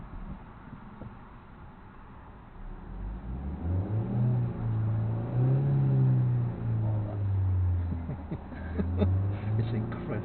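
A car driven by a learner on a first lesson moves off, its engine rising from a quiet idle into a wavering, revving hum that swells and dips as the sensitive pedal is worked, with faint talk inside the cabin.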